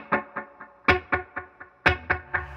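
A Gibson ES-335 electric guitar runs through a Helix processor with slapback echo, playing crisp, evenly spaced rhythmic chord stabs with a short trailing repeat after each hit, close and loud with no talking.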